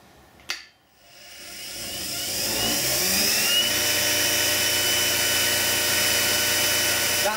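An Axminster Precision Pro pen lathe with a 375-watt brushed motor clicks on, then winds up to a smooth, steady whine at its full 3,600 RPM, close and constant after the spin-up.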